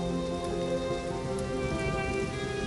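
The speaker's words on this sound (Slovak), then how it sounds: "Silno zahrmí, prichádza dážď." Steady rain falls in an outdoor scene of a Slovak Holocaust drama, with an even wash of drops and no voices.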